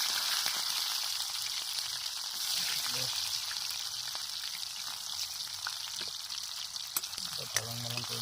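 Onion and chili sizzle steadily in hot oil in a makeshift survival-challenge kitchen, a dense continuous frying hiss with a few clinks near the end and no talking.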